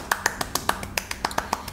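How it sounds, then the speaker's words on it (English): Children in a kindergarten classroom clapping their hands, about a dozen sharp, crisp claps in a quick, slightly uneven rhythm, close and distinct against a quiet background. "Everyone, clap your hands."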